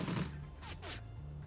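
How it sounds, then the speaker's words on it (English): Burst gunfire in Shadowrun: Dragonfall, a quick loud volley of shots at the start that trails off into a short echo within about a second and a half. "Burst fire."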